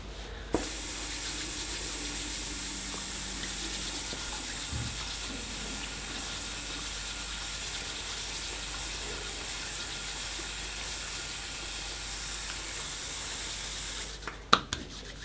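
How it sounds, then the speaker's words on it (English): Tap water runs steadily into a sink as hands are washed beneath it, a soft continuous hiss and splash that starts abruptly and stops near the end with a few clicks. "I'm just going to wash my hands."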